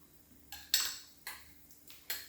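Miso is stirred into soup in a pot with four separate scraping clinks of a utensil against the pot, spaced a half second or more apart, close and moderately loud against a quiet kitchen background.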